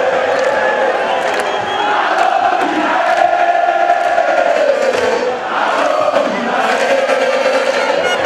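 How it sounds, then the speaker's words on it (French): A crowd in Kisangani cheering and shouting at a political speech by an election hopeful, a loud, sustained mass of voices that rises and dips a little, with no single speaker standing out. "Son discours était très applaudi par les Boyomé qui l'ont déclaré déjà vainqueur"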